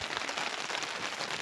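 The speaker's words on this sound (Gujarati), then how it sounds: "વરસાદ ચાલુ છે" Heavy rain falls steadily in Tharad village, a soft, even patter of drops on surfaces, fairly faint and continuous with no voices.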